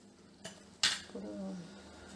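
A lid goes onto a pot of spicy South Indian curry with a sharp metallic clank, then a softer clatter follows, close and clear, with someone speaking briefly just after.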